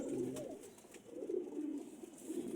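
Pigeons coo in a few soft, throaty rolling calls that rise and fall, near and faint, alone without voices.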